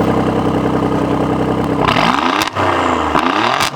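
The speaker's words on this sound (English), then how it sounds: "you can actually hear the exhaust" A Toyota MR2 (SW20) in race mode idles with a loud rumbling exhaust, then revs sharply a couple of times, the pitch climbing and dropping, very close.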